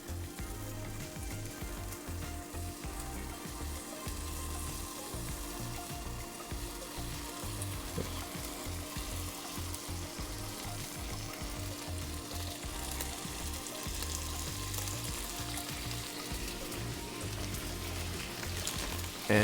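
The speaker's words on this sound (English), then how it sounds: "take about 4 or 5 pieces of the Wegmans organic Applewood smoked bacon and just lay them right in the pan on a medium heat" Four or five strips of Wegmans organic applewood smoked bacon frying in a pan over medium heat, a steady close crackling sizzle with dense spitting that continues evenly throughout without voices.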